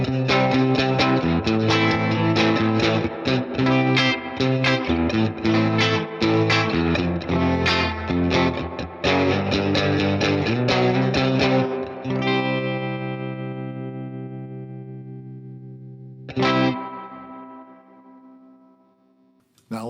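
Surf-style electric guitar through a Fender Tone Master Pro with tremolo and reverb, played loud and continuous with a pulsing, wavering tone, then a long reverb tail fading out, one more strummed hit and a brief final note.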